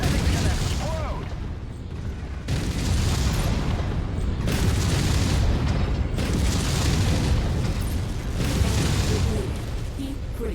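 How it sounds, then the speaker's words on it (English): In MechWarrior 5, a mech blows apart in a run of heavy booming blasts that come in repeated loud bursts over rumbling combat noise, close and powerful. "That thing's gonna explode!"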